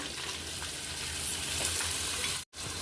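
Onions and green chillies sizzle steadily in hot peanut oil, a dense close frying hiss that holds throughout and cuts out briefly near the end before resuming.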